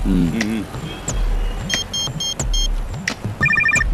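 A telephone trills in short repeated electronic bursts, ringing out among spoken dialogue and background traffic in a Tamil comedy scene.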